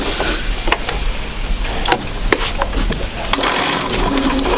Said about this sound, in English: go ahead and sew right down that line